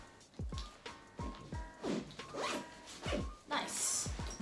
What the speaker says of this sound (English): let's try and zipper up